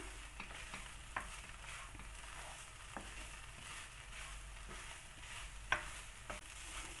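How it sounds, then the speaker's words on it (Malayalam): Fried prawn masala (chemmeen) is stirred and sautéed in a pan over medium flame, giving a faint steady sizzle with occasional soft scrapes of the spoon and no voices. "മീഡിയം ഫ്ലെയിമിട്ട് നമ്മൾക്ക് ഇതുപോലെ കുറച്ച് സമയം ഒന്ന് വഴറ്റി കൊടുക്കാം."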